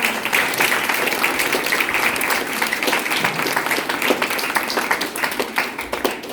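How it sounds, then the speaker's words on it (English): A crowd at a tech panel session applauds the panelists, with loud, dense clapping that carries on without a break, a few individual hand claps standing out near the end. "Can we have a huge round of applause for our panelists?"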